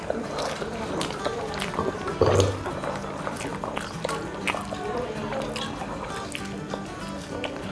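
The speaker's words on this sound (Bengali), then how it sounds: "মাছটি খাচ্ছি" Someone eating hilsa fish with rice and potato-eggplant curry, with soft wet chewing, squelching and small clicks close to the mic while a person talks throughout.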